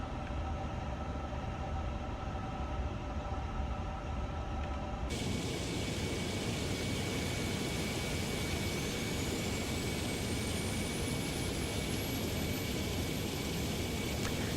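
An Airbus A350 engine spools up in Microsoft Flight Simulator 2024, its steady roar jumping abruptly louder and brighter partway through, followed by a slowly rising whine over a constant rush.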